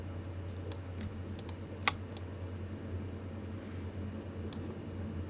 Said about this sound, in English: I'm clicking, shift clicking to create the key.